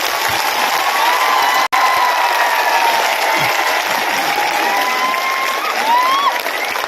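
Dense, loud crowd applause at an outdoor victory celebration for the Tiprasa accord signing in Hathai Kotor, continuous clapping with scattered cheers and shouts, broken by one momentary dropout.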